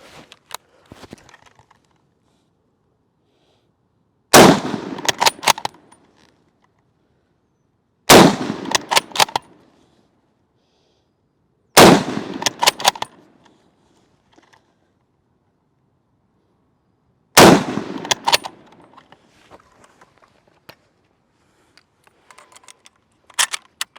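A WWII-era rifle fires during a qualification test: four sharp, loud shot bursts spaced several seconds apart, each with rattling mechanical action, separated by near silence.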